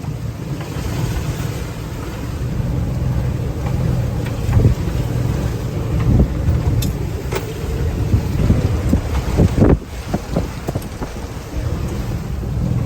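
Storm at sea on a sailboat, with a loud, steady roar of wind and rain and rumbling low noise, broken by a few sharp knocks and clatters from the boat near the end.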